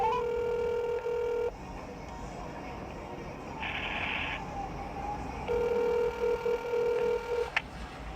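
A telephone call is dialed and rings through before reaching voicemail: a steady ringback tone sounds in two long stretches with a quiet gap between them, and a brief burst of higher dialing tones falls in the middle.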